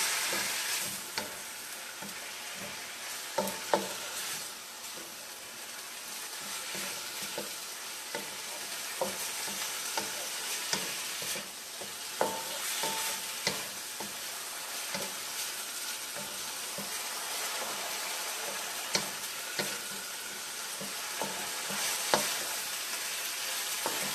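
Food fries and is mixed in a pan, a constant hissing sizzle broken by irregular scraping and tapping of the spoon throughout, with no voice.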